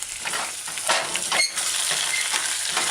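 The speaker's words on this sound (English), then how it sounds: "Alright, so you're stirring in your pot as you would stir fry." Onions, garlic, dried pimento berries and salt stir-frying in a pot for a cabbage chicken stew, a close, continuous sizzle broken by a few scraping stirs of a utensil.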